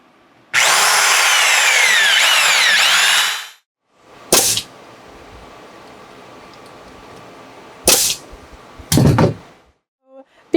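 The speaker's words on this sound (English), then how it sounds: "this has a 1 1/4 size, and that's what we're going to use to drill the hole." A power drill boring a 1 1/4 inch hole through a wooden board for a bird box, a loud whining grind for about three seconds, then quieter with a few short sharp knocks and scrapes of wood handling.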